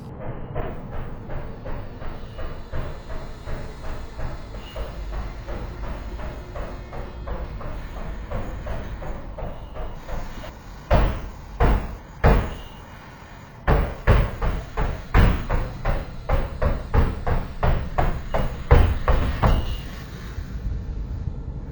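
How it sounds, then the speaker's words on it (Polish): Knocks and thumps inside an allegedly haunted apartment: a faint rumbling background, then sharp isolated bangs followed by a rapid run of loud, irregular knocks and shuffling impacts in the second half, with no speech. "wielokrotne stuknięcia, przesuwanie się przedmiotów czy pukanie do drzwi"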